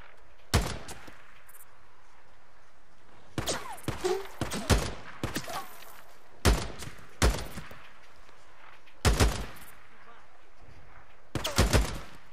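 Sniper and rifle gunfire in the video game Days Gone, sharp loud shots landing in short clusters separated by quiet gaps, with a few bursts of rapid fire.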